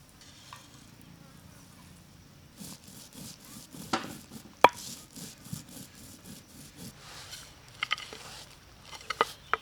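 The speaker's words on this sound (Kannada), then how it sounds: "ಕೊತ್ತಂಬರಿ ಕಾಳು ದಪ್ಪಾಗಿ ರುಬ್ಕೊಳ್ಳೋಣ" Coriander seeds are coarsely ground by hand on a stone, giving rough, rhythmic scraping and grinding strokes with occasional sharp clicks, close and moderately loud.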